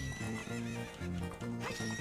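Horse in the video game Zelda: Ocarina of Time whinnies in a drawn-out neigh, loud and continuous over the game's music, with no talk.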